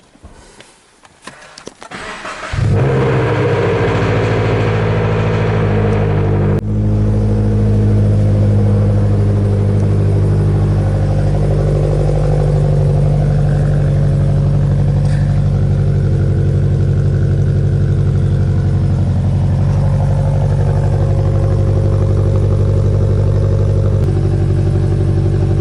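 A Subaru BRZ with a JDL header exhaust cold starts with a brief crank, then settles into a loud, steady, raspy idle rumble held close by, with no talking.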